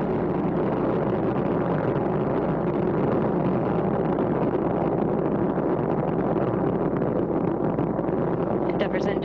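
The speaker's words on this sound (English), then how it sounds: "Endeavour's engines were throttling down as the orbiter passes through the area of maximum pressure on the vehicle" Space Shuttle Endeavour climbing away from Kennedy Space Center on the STS-127 launch, a dense continuous rumbling roar that stays loud and steady throughout with no pauses.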